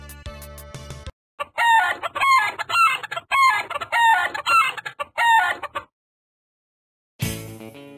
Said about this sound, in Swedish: Jag är väldigt nära höns här.